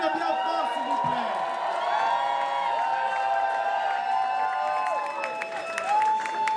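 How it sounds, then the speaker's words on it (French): A live audience at a drag show finale applauds and cheers four dancers, with dense sustained clapping, whoops and shouts that fill the room throughout. "on peut les applaudir bien fort, s'il vous plaît"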